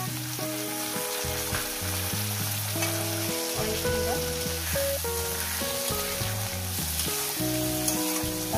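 Onion and tomato fry in a pan for aloo dum, giving a steady, loud, continuous sizzle over music playing throughout.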